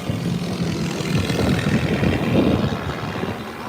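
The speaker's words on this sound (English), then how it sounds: "Wow, that plane is going up, up and away." A small propeller plane climbs away from a small local airport, its engine a steady, fairly loud drone with a rough low rumble that holds for the whole moment, no voices over it.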